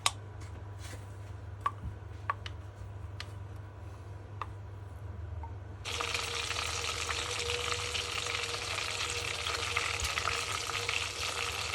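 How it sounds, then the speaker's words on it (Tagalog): Oysters frying in oil in a home kitchen: a few light clicks and taps give way midway to a loud, steady, close sizzle that continues without pause. "ang iluto ko nga kaki fry"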